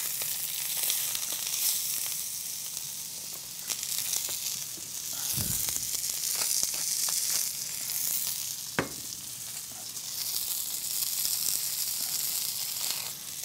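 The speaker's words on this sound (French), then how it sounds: "donc le filet de veau, qu'on va faire pour la recette. Donc, on est occupé à rôtir toutes les faces, chaque face de chaque côté" Veal fillet searing in a hot pan, a steady loud sizzle and hiss with occasional sharper pops and crackles as the pieces are turned, no voices.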